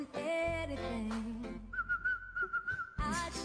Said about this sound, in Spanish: Que silba desafinado el tipo.